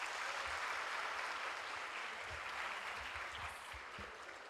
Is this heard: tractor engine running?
no